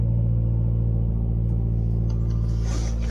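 A car fitted with a Corksport rear engine mount idles and rolls off, a steady deep engine rumble heard from inside the cabin with a faint rustle near the end.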